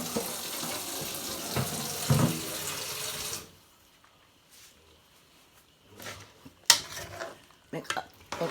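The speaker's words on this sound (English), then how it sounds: "The hot water in my faucet." Hot water runs from a kitchen faucet into a sink while curry chicken back is being made. A steady rushing flow stops partway through and is followed by faint kitchen clatter and scattered taps.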